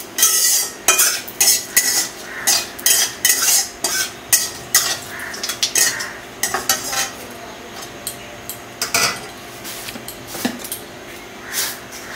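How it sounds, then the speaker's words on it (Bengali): White cumin seeds hit hot oil with a bay leaf in a pan, giving a crackling sizzle under a run of quick metal spoon clinks and scrapes against the pan, loud and close. "দিয়ে দিলাম সাদা জিরে।"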